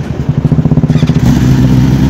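A superbike with a special aftermarket exhaust revs hard at a toll plaza meetup, a rapid pulsing burst of throttle blips climbing into a sustained loud roar close by.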